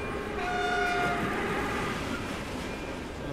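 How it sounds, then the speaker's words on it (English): Train in the horror game Reveil, a loud steady rumble with a sustained horn-like tonal blare fading after the first second, close and continuous, with no voices. "Oh, the train."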